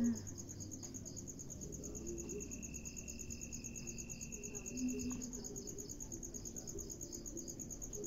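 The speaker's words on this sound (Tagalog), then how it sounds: "Dinig na dinig yung mga kulisap." Insects chirp steadily through the night air in a dense, continuous high trill, with faint distant background noise and a brief tonal whine in the middle.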